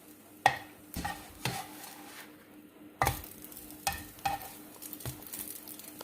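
Eggy bread fries in a pan with a low, steady sizzle, broken by repeated sharp scrapes and clicks of a utensil turning and pressing the slices, roughly one knock every half second to a second.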